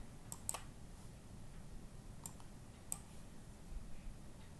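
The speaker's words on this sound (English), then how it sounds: "when you type it into Desmos, all you have to do is type in the fraction itself" A few faint, scattered keyboard clicks sound as a number is typed into an online graphing calculator, set against a quiet room hiss.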